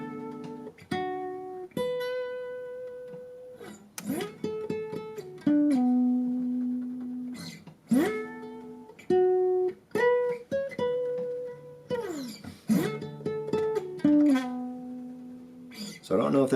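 An acoustic guitar plays the intro lick of a song, a quick series of plucked notes with slides up the neck and short pauses between phrases, heard close and unaccompanied.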